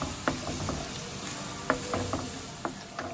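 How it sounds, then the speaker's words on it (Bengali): Onion and ginger-garlic paste masala sautéing in oil for doi katla, a quiet, steady sizzle broken by scattered clicks and scrapes of a spoon stirring in the pan. "এবার মশলাটাকে আমি ভালো করে কষাবো"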